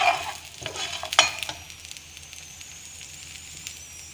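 Cumin, black pepper and coriander dry-roasting in a pan, with a few crisp stirring scrapes and crackles at first, then a faint steady sizzle fading down.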